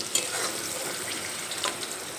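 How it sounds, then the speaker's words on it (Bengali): Papaya pieces frying in oil left over from frying fish, a steady close sizzle and crackle throughout with a couple of brief louder spatters, no voices. "মাছ ভাজা তেলের মধ্যে পেঁপে ভাজছি"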